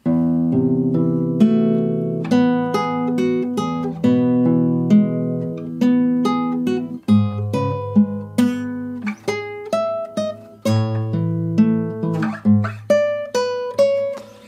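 A guitar plays a picked melody line from Final Fantasy 7 Remake alone, clear plucked notes with bass notes underneath, moving at a moderate, steady pace.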